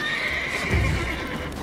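A horse in The Witcher 3 video game gives a clear, loud whinny alongside the clip-clop of hooves, with no voices over it.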